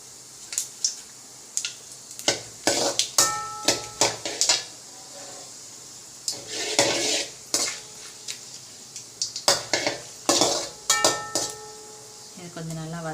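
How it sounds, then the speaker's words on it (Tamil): Spices such as bay leaf, cinnamon and dried chillies sautéing in a pan for Sirkali chicken curry, with repeated close metallic clinks and scrapes of a spoon against the pan over a faint sizzle. "இது கொஞ்சம் நல்லா வதங்குது."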